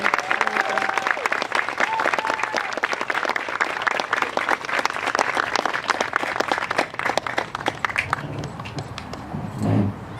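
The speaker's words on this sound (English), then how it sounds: "Give them all a round of applause, ladies and gentlemen" An audience at a talk on mass school shootings breaks into sustained, dense applause that runs loud and steady throughout, with a few whoops and a voice briefly audible near the end.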